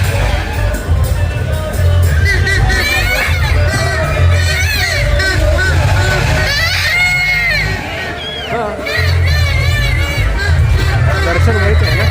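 A huge crowd fills the Mangai temple fair with loud, continuous babble, overlapping voices and occasional shouts close by, dipping briefly before swelling again.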